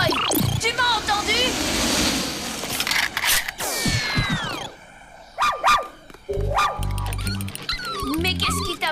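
Cartoon dog yipping and barking in short bursts amid busy animated sound effects, with voices talking around it.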